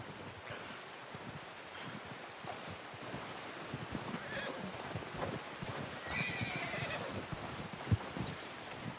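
A horse in the video game Red Dead Redemption 2 gives a couple of neighs and whinnies, with hooves clopping and soft outdoor ambience; someone talks briefly over it.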